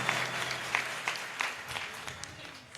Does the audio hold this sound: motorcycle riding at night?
no